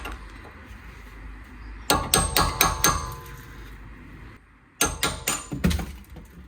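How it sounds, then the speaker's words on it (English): Two bursts of sharp metallic hammer blows on a chisel, several quick strikes each, separated by a short pause, close and loud, knocking off a wheel cap on a Mercedes E 220 BlueTEC W212. "So I'm gonna remove the cap, use a chisel and a hammer."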